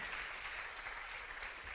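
An audience claps at a poetry slam finals in London. Dense, even applause from a crowd keeps going at moderate volume with no break.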